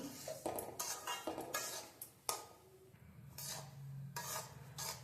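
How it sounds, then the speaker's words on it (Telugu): Semolina (rava) is dry-roasted in a pan, with repeated scraping and stirring strokes of a spatula against the metal and a faint sizzle between them. "బాగా ఒక టెన్ మినిట్స్ వరకు మనము రవ్వను బాగా వేయించుకోవాలి"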